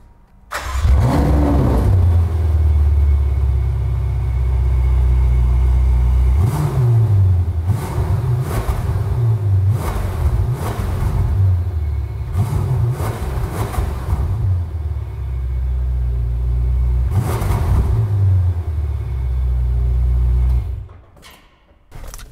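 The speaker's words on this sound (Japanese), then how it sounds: "続いて排気音聞いてみたいと思います。" A Ferrari California T Handling Speciale's exhaust roars with a series of loud, sharp revs rising and falling, then idles between bursts before cutting off near the end.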